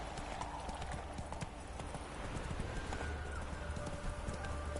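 Roach, the horse in The Witcher video game, clip-clops along at a steady trotting pace, hooves rhythmic and moderately close over a bed of ambient game sound.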